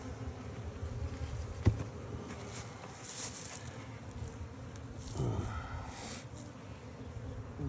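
Honeybees hum and buzz all around during a February hive inspection, a close, dense, continuous drone with individual bees swelling nearer now and then.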